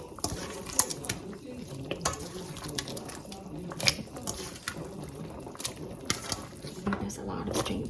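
Shrimp go into a sizzling pan with okra and string beans and get stirred, giving steady frying hiss with repeated scraping and clinking of the utensil against the pan, close by.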